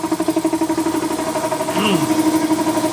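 A motorcycle engine, on a bike being worked on in a repair shop, idles steadily with a pulsing, throbbing rhythm. It sounds close and fairly loud, with a brief higher chirp about two-thirds of the way through.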